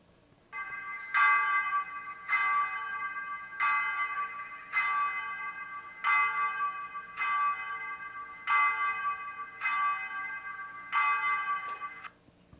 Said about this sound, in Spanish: suenan ya las campanas anunciando la hora.